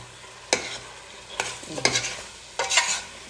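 Biryani being stirred in a pot, four separate scraping, clattering strokes of a spoon over a low background sizzle, close and fairly loud, with no talk.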